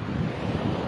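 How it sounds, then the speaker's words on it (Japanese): Strong ocean waves crash against a basalt cliff coast on Iki island, a dense, steady roar of surf mixed with buffeting wind noise on the microphone, loud and continuous throughout. "おお、波がきついです。"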